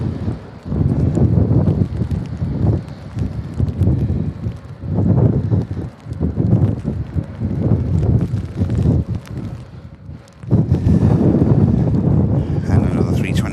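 Strong Storm Claudia gusts batter an outdoor microphone at Manchester Airport, making loud, uneven low rumbling bursts that rise and fall, with a brief lull near the end before the buffeting returns.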